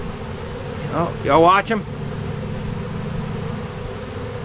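Honeybees buzzing around a hive being removed in November, a steady low hum throughout with a person briefly speaking near the start.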